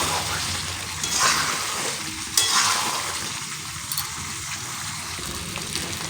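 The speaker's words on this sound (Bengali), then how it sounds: "টমেটোটা কষাতে কষাতে আমি কিন্তু এর মধ্যে আলুটা দিয়ে দিচ্ছি" Potatoes added to frying tomatoes for a Bengali-style mutton curry sizzle steadily in hot oil, a loud continuous crackle with occasional stirring scrapes of the spoon through the pan.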